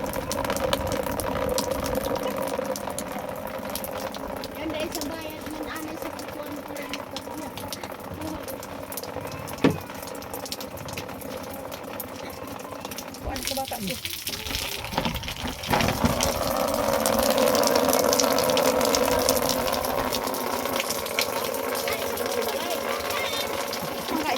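A steady rush of rainwater pours off a roof and splashes continuously, with muffled noise and brief knocks along the way.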